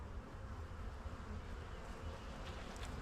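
Honeybees hum in a dense, continuous buzz during a spring hive inspection, steady and close with no talking.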